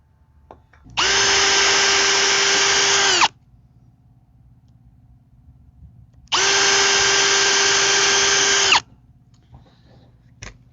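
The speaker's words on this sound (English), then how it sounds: "I've been pre-drilling, that way they don't split on me." A power drill whirs steadily in two long bursts of about two seconds each, pre-drilling pressure-treated fence wood, separated by a quiet pause, close and loud.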